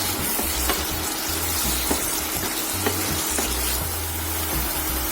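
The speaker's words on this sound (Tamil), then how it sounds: "இதுக்கு தேவையான உப்பு சேர்த்துக்கலாம். தக்காளி நல்லா குழஞ்சு வேகட்டும்." Tomatoes cooking in a salted pan give a dense, continuous close sizzle with occasional light taps and stirring clicks, steady in level throughout and free of speech.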